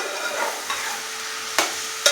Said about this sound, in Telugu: కలుపుతూ ఉండాలండి.